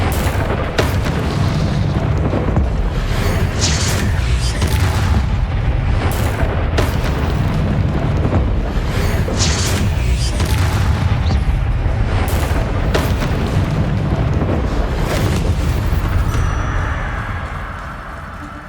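Spell explosions from Bombarda and Confringo in the Hogwarts Legacy video game: heavy, booming blasts that roll on continuously and loudly for most of the stretch, then taper off near the end.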